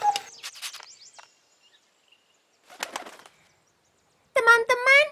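Cartoon baby bird sounds in a springtime children's animation, short bursts of chirping and tweeting separated by silence, ending in a louder run of bright, harmonic cheeps.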